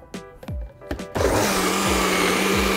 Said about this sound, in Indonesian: kita blender kembali ya supaya ngeblend antara minyak, bumbu, dan airnya.